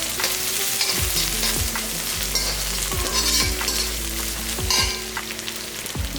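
Onions and salt frying in a pan, a loud continuous sizzle broken by regular scraping strokes of a utensil stirring, roughly once per second.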